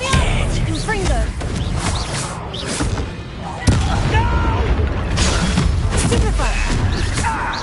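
Repeated Confringo blasting-spell explosions in Hogwarts Legacy, loud booming bursts and crashes with a sharp blast near the middle, under shouted game dialogue and combat noise.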